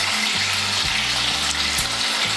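Eggs seasoned with salt and turmeric fry in hot oil, giving a steady, close crackling sizzle that runs evenly through the short stretch with no voices.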